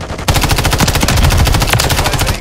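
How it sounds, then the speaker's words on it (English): Rapid, sustained burst of remote turret machine gun fire in Call of Duty: Modern Warfare 3, loud and close, with evenly spaced shots running unbroken for about two seconds after a brief quiet start. "Hostile remote turret is active."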